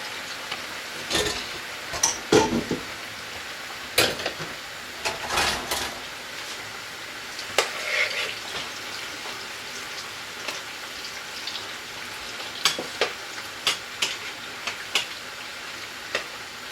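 Food frying in hot cooking oil in a pan while cooking jollof rice and plantain, a crackling sizzle with bursts of sharp pops and spatters spread over the stretch, close and without voices.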